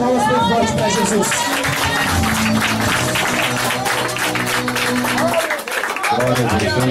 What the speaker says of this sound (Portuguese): As palmas bem fortes para Jesus